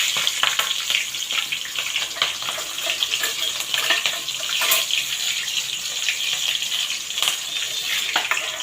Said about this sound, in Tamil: பச்சை மிளகாயும் ஜீரகம் வெந்தயம்லாம் கொஞ்சம் பொரியட்டும்.